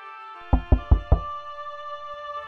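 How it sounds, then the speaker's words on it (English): Four firm knocks on a wooden door in an audio drama, evenly spaced and close, followed by a quiet room tone over a soft musical drone. "until at last the captain knocked on the door"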